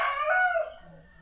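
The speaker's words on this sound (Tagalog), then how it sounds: "tilawak ng manok" A rooster crows once at dawn in the countryside of a Philippine province, a single close, loud cock-a-doodle-doo that rises and then trails off.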